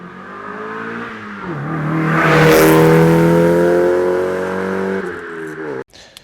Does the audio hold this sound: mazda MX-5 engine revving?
yes